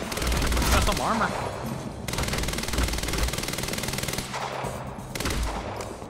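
Bursts of automatic gunfire from a weapon in the video game Quantum Break, rapid loud volleys in a few sustained runs with short pauses between them.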